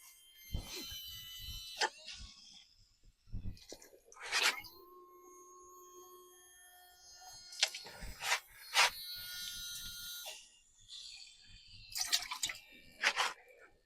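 Water from a homemade low-voltage, high-pressure pump spurts and trickles in irregular splashes and drips, quiet between the bursts.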